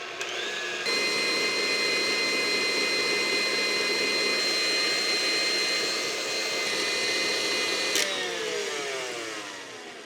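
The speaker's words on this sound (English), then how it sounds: "Our next level of overmixing pancakes with a KitchenAid." A KitchenAid stand mixer whips pancake batter, overmixing it, with a loud, steady motor whine that runs unbroken for several seconds before winding down near the end.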